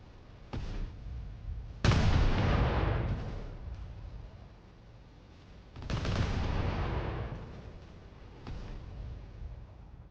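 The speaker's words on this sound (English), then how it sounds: "Fire all of the missiles." Starship missile salvo in the space game Project Stardust: two loud, booming volleys of launches and blasts, each with a sharp onset and a long rumbling roar, separated by quieter crackling gaps.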